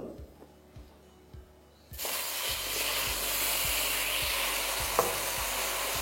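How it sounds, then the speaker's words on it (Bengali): Water poured into melted, caramelizing sugar bursts into a loud, steady sizzle after a quiet start with soft taps, hissing and spattering continuously to the end without any talk. "এই স্টেজে আপনাদের এখানে দিয়ে দিতে হবে অল্প অল্প জল"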